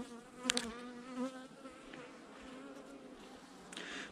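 A honeybee colony buzzes steadily during a late-autumn beehive inspection, a continuous droning hum of many bees close by, with a few brief louder buzzes of single bees flying past.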